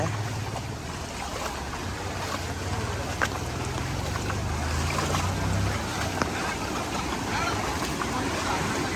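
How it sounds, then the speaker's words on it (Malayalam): Floodwater from a paddy field pours forcefully across a road in Valanchery, a steady loud rushing wash with low rumbling underneath, continuous throughout with wind buffeting the microphone. "ഈ പാടത്തുനിന്ന് ഫുൾ വെള്ളം നമ്മളെ റൂട്ടിൻ്റെ മേലക്കൂടെ ഇങ്ങോട്ട് മറിയാണ് നല്ല ഫോഴ്സിലാണ് വെള്ളം വന്നുകൊണ്ടിരിക്കുന്നത്"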